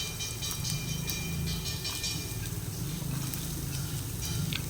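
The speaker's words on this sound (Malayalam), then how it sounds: "ആദ്യം തന്നെ ഒരു കടായിലേക്ക് അല്പം വെളിച്ചെണ്ണ ഒഴിച്ച് ചൂടാവുമ്പോൾ അതിലേക്ക് ഓരോ ടീസ്പൂൺ വീതം ഇഞ്ചി വെളുത്തുള്ളി ചതച്ചത് ചേർത്ത് വഴറ്റിയെടുക്കാം" Crushed ginger and garlic sautéing in hot coconut oil in a kadai give a steady, close sizzle with faint crackles and occasional stirring scrapes, no voices.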